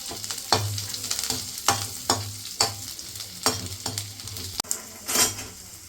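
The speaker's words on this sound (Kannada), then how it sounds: "ಗಾರ್ಲಿಕ್ ಮತ್ತು ಇದು ಕರಿ ಲೀವ್ಸ್ ಎಲ್ಲ ಹಾಕಿಬಿಟ್ಟು ಅದು ಒಂದ್ಸಲ ಫ್ರೈ ಮಾಡ್ತೀವಿ" Garlic and curry leaves fry in a pan for chilli chicken, a bright sizzle running under a regular rhythm of spatula strokes scraping and knocking the pan about every half second, close and without voices.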